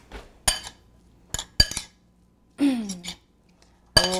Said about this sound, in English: Just give it a little mix.